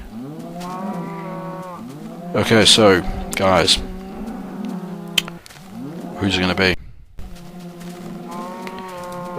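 Minecraft cows mooing several times in short bursts on a sunny day, the calls overlapping one another, with someone talking over them between moos.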